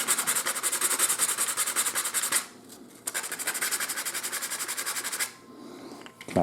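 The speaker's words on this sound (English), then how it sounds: "a little bit of sandpaper, just tidy up the end here, sand it flush." Steady rhythmic rasping of sandpaper on wood while sanding the end of a wooden steam engine part flush, two bursts of quick back-and-forth strokes separated by a short pause, close and fairly loud.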